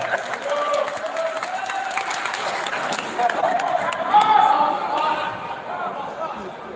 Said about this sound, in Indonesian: Tepuk tangan untuk moderator